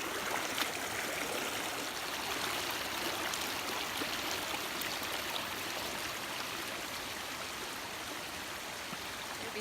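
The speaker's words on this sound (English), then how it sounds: "behind me you can see the curative and restorative, beautiful, free-flowing spring waters" Free-flowing sulphur and alkaline spring water at an ancient Roman spring, a faint, steady trickling and rushing stream with no voices.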